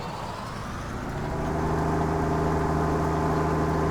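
A Challenger tractor in Farming Simulator 19 revs up from a standstill, a steady engine drone that climbs and strengthens into a loud, sustained tone with no talking.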